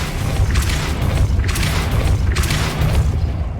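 Repeated Depulso spell casts in Hogwarts Legacy, three heavy booming bursts spaced about a second apart, loud and close over a continuous low rumble.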